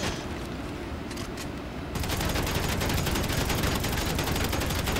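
Rapid, sustained automatic gunfire in GTA Online, dense and loud, growing heavier midway into a continuous barrage of overlapping shots.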